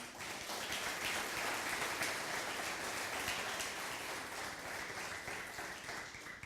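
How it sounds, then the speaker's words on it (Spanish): A church congregation applauds during a sermon: a soft, distant wash of steady clapping that sounds almost like rainfall and holds evenly for several seconds. "Dale un aplauso al Señor"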